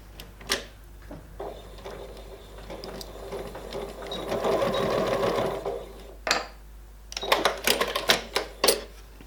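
A sewing machine runs in short bursts while sewing a curved quilt seam, working close and moderately loud, with a longer stretch of stitching in the middle and quick stop-start clicks toward the end.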